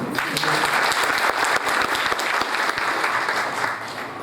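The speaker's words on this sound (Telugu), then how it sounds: "చప్పట్లు." A dense burst of audience applause at a public function, loud continuous clapping from many hands throughout, fading slightly at the end.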